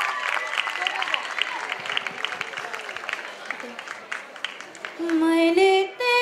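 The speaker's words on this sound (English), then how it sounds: "Come on, guys, big round of applause." Audience applause rises for a duet singing pair at a cultural competition. The clapping is mixed with voices and gives way to a sung note at the end.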